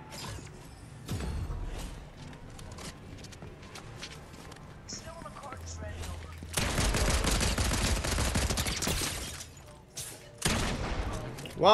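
Gunfire rings out during an online shooter video game match, with bursts of shots and mechanical clatter that get loud and dense partway through, heard under excited talk from players.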